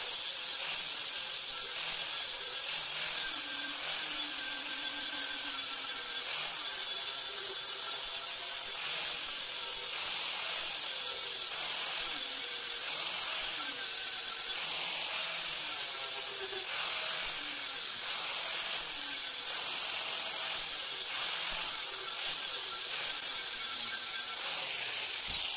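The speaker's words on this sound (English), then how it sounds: "So I'm going to get the grinder and do that." An angle grinder flattens a weld on the hub of a home-built wind turbine blade assembly, a continuous loud high-pitched whine with rising and falling pitch as the disc bites and eases off, running steadily throughout.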